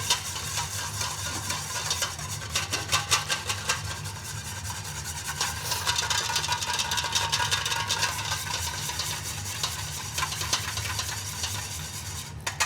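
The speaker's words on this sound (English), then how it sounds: "Emulsify that together so it all mixes in." Ingredients for a venison dish dressing being emulsified, giving a steady, rhythmic scraping and whisking rub that continues close and fairly quiet throughout.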